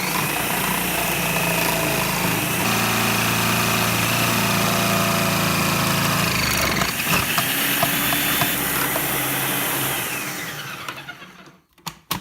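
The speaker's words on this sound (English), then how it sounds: "Shred each piece of soap one at a time." A food processor fitted with a shredding disc grinds through a bar of soap, a loud steady motor whine and rasp for about ten seconds before spinning down and stopping.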